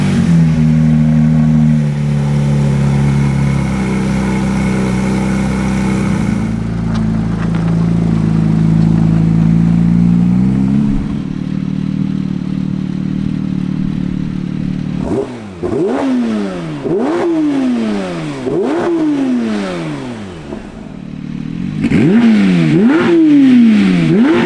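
Porsche 992 911 GT3 fitted with an Akrapovič titanium race exhaust, first a steady loud idle, then a string of sharp revs that rise and fall repeatedly, each blip climbing quickly and dropping back.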